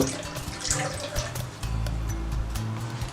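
Water from an aquarium filter being turned, splashing and trickling steadily with a louder continuous pour in the second half, close by with no talk.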